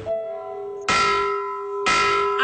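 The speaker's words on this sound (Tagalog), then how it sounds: "sa bawat pagbating-ting daw ng kampana sa oras ng dalaw" A prison bell rings for visiting hours with two loud, clanging strikes about a second apart, each leaving a long metallic ring that hangs between hits.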